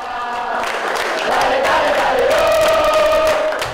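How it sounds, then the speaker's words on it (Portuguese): A dense crowd of basketball fans at a Brasília versus Flamengo game in Manaus shouts and cheers together, a loud sustained roar that swells and holds, with a rising chant-like voice line near the end. "Gritarias, muitos flashes e, claro, torcida organizada"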